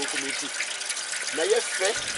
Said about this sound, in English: the dilute juice freely flows into the saucepan